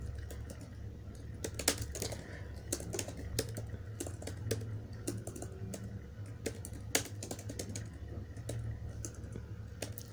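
Rapid clicks of someone typing an organisation name on a computer keyboard, a dense run of close key taps over a low hum in a quiet room.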